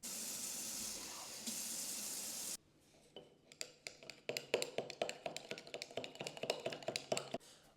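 Tap water runs in a steady hiss into a container for an Elmer's glue paper mache mix, then stops, followed by a run of quick clicking and tapping knocks.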